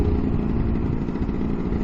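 A Lambretta S1 scooter's two-stroke engine, with a long-stroke crank, runs steadily at low revs around 3,500 rpm, a loud continuous near rumble with no talk over it.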